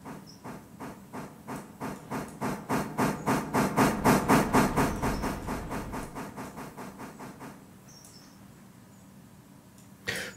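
Railway train noise from the Railroader game: a steady series of rhythmic pulses swelling to a loud peak then fading over several seconds, like wagons rolling past, with a brief sharper burst near the end.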